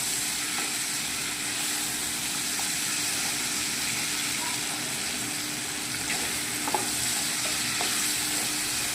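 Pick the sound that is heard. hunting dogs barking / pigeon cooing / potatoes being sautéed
potatoes being sautéed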